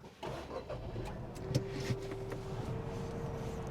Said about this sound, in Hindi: Let me start the car.